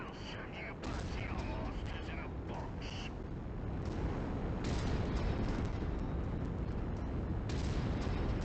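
Weapons fire and explosions from mechs in MechWarrior 5: Mercenaries, modded campaign mode, heard as a dense, continuous battle rumble with sharper bursts throughout, loud and steady.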